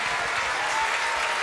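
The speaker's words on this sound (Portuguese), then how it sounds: "Cadê as palmas, gente?" A studio audience at a televised popular variety program claps for a guest, a brief, dense, even burst of applause with no talking over it.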